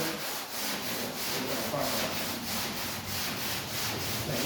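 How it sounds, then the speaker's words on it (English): Sandpaper rubs back and forth over a repaired dent, a steady close scratchy hiss that rises and falls with each stroke, with no talk. "Let's go ahead and sand it."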